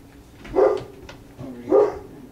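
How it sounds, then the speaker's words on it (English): A dog barks in two separate loud bursts, about a second apart, close by with some indoor echo and no talking over it. "the dogs are barking again"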